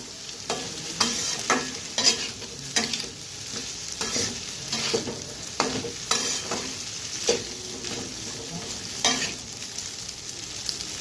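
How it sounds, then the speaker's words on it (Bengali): Pasta is stirred and fried in a pan, with a steady sizzle and a series of regular scraping, clacking stirs repeating about every second. "তো দিয়ে দিব পাস্তা। ভালোভাবে নেড়ে নেব।"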